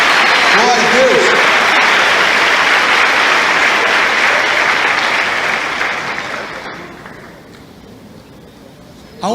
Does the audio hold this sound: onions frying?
no